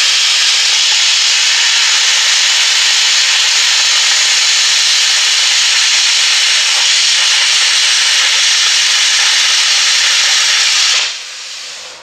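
A Longevity ForceCut 62i plasma cutter slicing through one-inch steel gives a loud, steady, broadband hiss for about eleven seconds, then it abruptly cuts off, with no talking.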